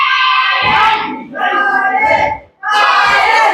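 Crowd at a live wrestling show cheering and shouting in loud bursts, with a short lull before the noise surges again.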